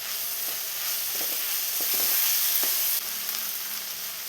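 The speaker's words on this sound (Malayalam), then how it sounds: "ഇനി നമുക്ക് ഇതിലോട്ട് തക്കാളി ഇട്ട് കൊടുക്കണം" Chopped tomatoes sizzle in a pan of frying soya roast, a loud steady crackling hiss with soft scraping knocks from stirring scattered through it and no talking.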